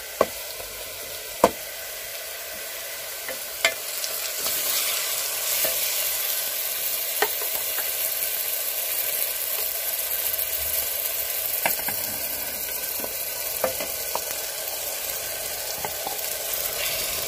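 Ground masala fries in oil in a pan for an aloo methi pulao, giving a steady close sizzle with a few sharp clinks and scrapes of a spoon stirring, no voices.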